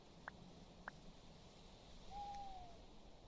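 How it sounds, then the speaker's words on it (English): An owl hoots from the ambient soundscape in the video game Minecraft: two short, faint calls spaced apart, then a longer, smooth drawn-out call near the end, with no talk over them. "Ooh, an owl."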